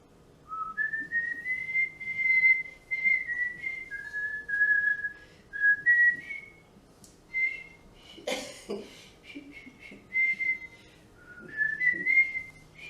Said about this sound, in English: See if you can whistle.